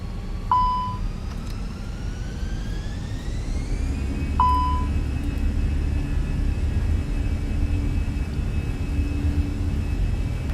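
A Korean Air airliner taking off at Gimpo Airport makes a steady, broad jet roar, with low rumble underneath and rising whine tones. Two short beeps sound near the start.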